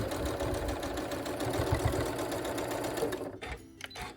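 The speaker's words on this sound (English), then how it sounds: "I'm just gonna come across here with a straight stitch" A sewing machine runs a straight stitch across a small quilt name tag with a 1/4 inch seam allowance, giving a close, steady rapid mechanical chatter that stops near the end.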